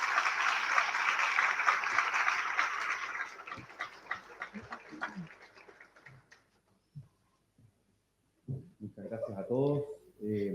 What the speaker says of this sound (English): We would like to receive him with a round of applause.